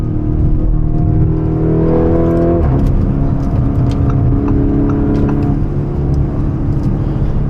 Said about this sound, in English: the second you take your foot off the gas in this car, it is just non-stop burbles and sounds like gunshots, literally